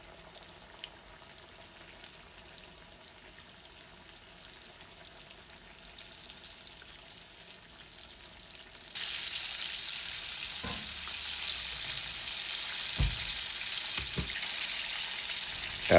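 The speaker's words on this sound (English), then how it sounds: "Heat up cooking oil to 350 degrees and fry for a total of 4 to 6 minutes." Chicken strips deep-frying in cooking oil heated to 350 degrees, a steady close sizzle that jumps louder about halfway through as more pieces drop in, with a few soft knocks and stirs.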